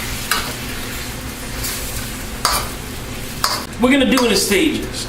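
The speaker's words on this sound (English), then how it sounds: "Let me stir this around." Steak cubes frying for teriyaki steak and udon, stirred with a slotted spoon in a pan: a steady loud sizzle with a few sharp scraping strokes, close up, and someone talking briefly near the end.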